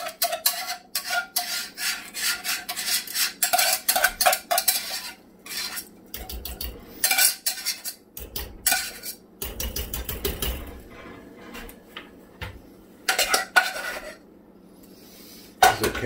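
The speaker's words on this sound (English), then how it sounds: "And then just stir it in best you can." A utensil scrapes and clinks rhythmically against a pot while mash is stirred into soup, steady repeated strokes with short pauses, close and fairly loud.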